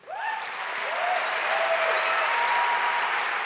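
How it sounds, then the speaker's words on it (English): Sustained audience applause and cheering at an Ignite Phoenix presentation event, a dense, steady wash of clapping from a large crowd with a few whoops rising above it, continuous throughout without talk. "if you'll do me the honor of keeping that cheering going"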